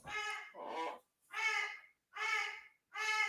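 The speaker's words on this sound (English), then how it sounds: "You guys hear my parrot?" A pet parrot gives five loud harsh squawks in an uneven series, each call about half a second long with short gaps between, close to the microphone and with no talk over it.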